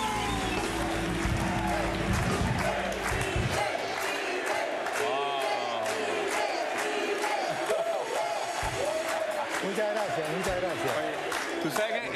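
A crowd applauds and cheers loudly and continuously at a live studio show, with whoops and shouts rising over dense clapping, and voices mixed in throughout.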